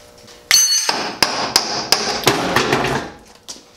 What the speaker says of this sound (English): That's why I need a hammer.